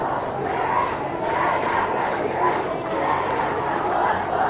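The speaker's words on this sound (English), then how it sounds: "So the crowd has been fired up for Lincoln since the start of this game." A steady, loud crowd roar fills a high school football game, Lincoln hosting Brandon Valley in the Presidents Bowl, as fans cheer for Lincoln near the goal line, with surging waves of voices throughout.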